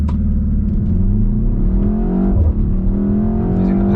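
A 2025 BMW X1 M35i accelerating hard with paddle-shifted gears, a loud close engine drone rising in pitch, a brief dip at a shift, then pulling up again, no talk.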